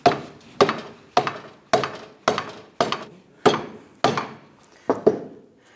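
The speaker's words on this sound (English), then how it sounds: "we're going to use our dead blow hammer and we're going to tap this on" Nine sharp, dull dead blow hammer taps on a CV joint of a Dodge Ram 1500, evenly spaced about half a second apart, close and loud with nothing else heard.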